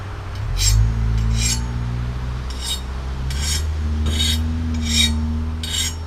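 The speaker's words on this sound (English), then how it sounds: "True test is when you file it to see if it hardened" A metal file skates across a hardened Damascus knife blade in a series of about eight bright, rasping strokes with brief pauses between them, close up over a low steady hum.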